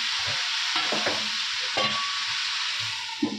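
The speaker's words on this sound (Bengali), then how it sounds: "মানে তরকারি ভাজ হচ্ছে তো" Vegetable curry with tomatoes fries in a pan with a steady hiss and sizzle, punctuated by scraping and stirring clatters throughout.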